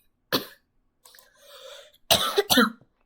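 Several harsh coughs from a person with a cold, a single burst then a wheezy throaty sound, followed by two quick loud coughs close to the mic.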